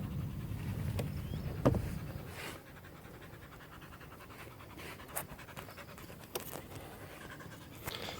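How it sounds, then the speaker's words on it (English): Dogs in Thailand pant close by in quick rhythmic breaths, with a louder snuffling burst early on and soft scratching and shuffling sounds in between. "So the dogs are here."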